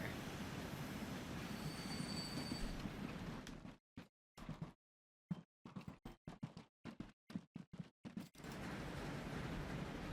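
A train running in the Transport Fever 2 game, a fluids train on its route: a steady rail rumble with squealing wheels, broken midway by a sequence of rapid clacking bursts and brief gaps before the continuous running sound returns, fairly faint overall.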